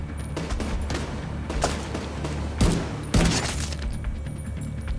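Gunfire in The Division 2, a couple of loud sharp shots standing out above a dense backdrop of scattered shooting and game ambience.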